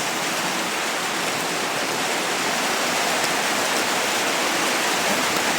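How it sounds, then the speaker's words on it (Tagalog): Heavy rain pours down in a dense, unbroken roar, loud and close, with no pauses. "Lakas talaga ng ulan na dyan."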